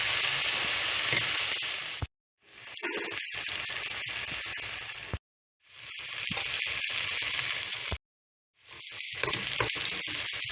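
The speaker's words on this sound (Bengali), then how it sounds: "পেঁয়াজগুলোর ভিতরে আদা রসুন বাটা, হলুদ গুঁড়া, মরিচ গুঁড়া, জিরা গুঁড়া, ধনিয়া গুঁড়া এগুলো দিয়ে ভালোভাবে কষিয়ে নিতেছি।" Onions frying with ginger-garlic paste, turmeric, chili, cumin and coriander powder for a hilsa fish egg curry, a loud steady sizzle broken by three short silent gaps, with faint scraping stirs throughout.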